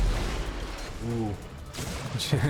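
Rockets fired in an Unreal Tournament match, heard as a few sharp blasts and whooshing launches amid game noise, with a voice talking over part of it.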